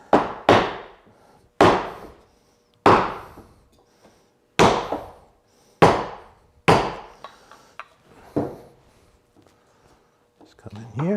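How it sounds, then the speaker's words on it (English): A chisel cleaning wood around a large through tenon, delivering about eight sharp, separate strikes with short decays and pauses between, close and clear with no talk. "And let's get our chisels. We just gotta clean around this tenon."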